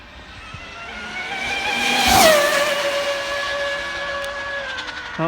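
An Arrma Limitless RC car with a 1650kv motor in a 150mph speed run, wheelspinning off: a loud rising electric whine that swells to a sharp peak midway, then holds a high sustained pitch as it carries on.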